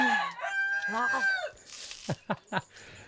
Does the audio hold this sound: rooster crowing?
yes